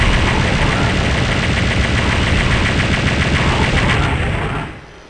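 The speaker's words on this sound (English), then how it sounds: "We'll just hang back and dispense plasma rounds their way." Plasma gun in Doom 64 fires a continuous rapid stream of shots at barons, loud and dense with a steady chattering rhythm, then cuts off abruptly near the end.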